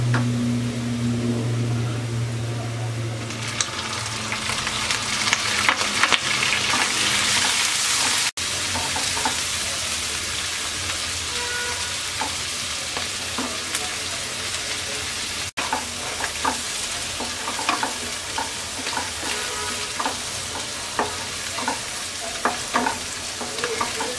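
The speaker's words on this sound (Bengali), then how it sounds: "এবার চিংড়ি মাছ দিয়ে আমরা 1 মিনিট ভেজে নেব।" Shrimp frying and being stirred in a pan over onions for a Bengali shrimp curry with jackfruit seeds and stems; a steady sizzle with scraping stirs runs throughout, close and alone.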